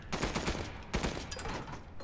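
Machine gun fire in Resident Evil Village, a dense, sustained burst of rapid shots with heavy rumbling, loud and continuous for about two seconds with no talking.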